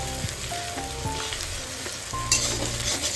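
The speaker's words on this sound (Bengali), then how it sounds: "আমি ডিমটাকে ভালো করে নেড়ে চেড়ে একদম কেটে ছোটো ছোটো করে ভুজি টাইপের করে নিচ্ছি" Egg frying in a pan is stirred and chopped into small bits with a spatula, a steady close sizzle with light scraping and tapping, no one speaking.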